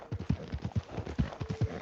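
Horse hooves clip-clopping in Red Dead Redemption 2, a quick, steady run of soft thuds at walking pace, close and fairly quiet, with no speech.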